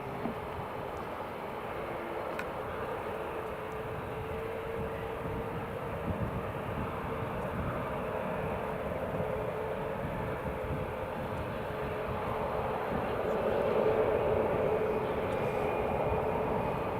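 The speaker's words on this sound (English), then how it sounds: "This is Carl's flight just about to head off." An airliner at Newcastle International Airport preparing to take off, a steady broadband engine roar and rumble heard from a distance and holding level, growing slightly louder near the end, with no talk.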